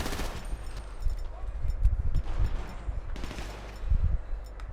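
Gunfire in a video game, with shotguns among the enemy weapons: repeated blasts and bursts at varying distance through the whole stretch, peaking in several clusters over a steady low rumble.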